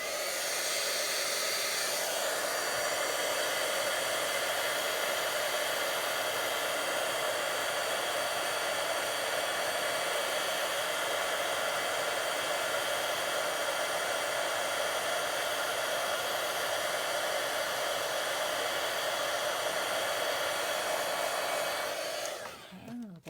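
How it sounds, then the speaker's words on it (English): Heat tool for card making blows hot air with a loud, steady, broadband whoosh held for over twenty seconds before cutting off at the end; no speech. "bring in the heat tool"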